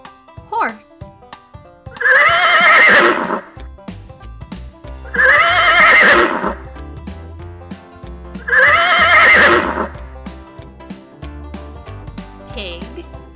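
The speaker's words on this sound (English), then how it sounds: "Horse." A farm horse whinnies three times in loud, evenly spaced bursts over soft background music.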